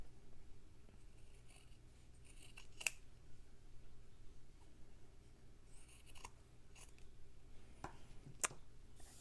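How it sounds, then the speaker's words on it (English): Scissors trim stitched fabric for a slow-stitching mattress piece, producing a few quiet, sparse snips over a soft, low room hush. "now I'm going to trim this down"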